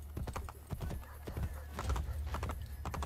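Horse hooves clip-clopping at a gallop in the video game Assassin's Creed Brotherhood, a quick, irregular stream of close, thudding beats running throughout.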